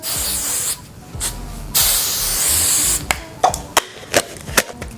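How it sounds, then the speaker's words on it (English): Several hissing bursts of an aerosol hair holding spray sprayed on hair during a wig install, two longer sprays followed by quick clicks and short handling noises close by. "Sometimes you might have to take a little holding spray and just spray it."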